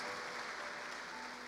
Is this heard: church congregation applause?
yes